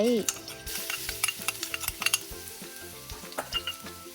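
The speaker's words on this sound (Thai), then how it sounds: "พอน้ำมันเริ่มร้อนใส่กระเทียมที่เราโขกไว้" Garlic sizzles and crackles in hot oil in a wok while Thai basil stir-fry with shrimp is cooked, with a spatula scraping and stirring against the wok in quick, irregular strokes. No voices.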